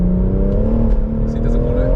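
A BMW M140i Stage 2 engine pulls hard on a damp road, a loud close drone that climbs steadily in pitch as the car accelerates, with a few faint knocks and chirps over the top.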